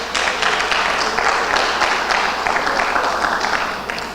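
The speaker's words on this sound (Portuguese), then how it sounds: "uma salva de palmas" Dense, steady applause from a church congregation during a worship gathering, loud and continuous for several seconds with no talking over it.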